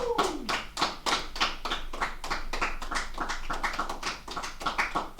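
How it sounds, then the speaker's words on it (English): People clapping at the close of a networking class, a loose series of sharp individual hand claps that patter unevenly at close range, with some faint background murmur beneath. "people started clapping, so I just followed"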